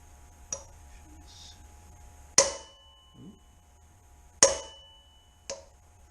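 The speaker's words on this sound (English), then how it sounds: "I'm really not hammering too hard on that bearing" Sharp metallic hammer blows seating a cold bearing into a Ducati 680TT motorcycle hub, four isolated strikes spaced a second or two apart, the middle two loudest and ringing, with a quiet mumble in between.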